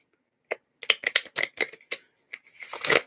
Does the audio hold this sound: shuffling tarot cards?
yes